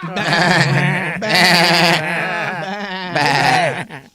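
A person imitates a goat on sports radio, giving three loud, wavering bleats close to the microphone, separated by short pauses.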